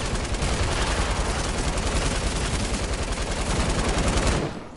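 Rapid continuous submachine gun fire in the video game Fortnite rattles for several seconds in a dense, loud burst before cutting off abruptly.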